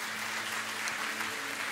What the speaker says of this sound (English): give God a hand clap of praise today